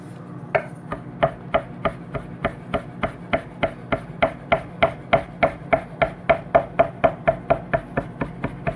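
A knife chops through fresh pasta dough on a board in a steady, even rhythm of about twenty crisp, close knocks, with no talk over it.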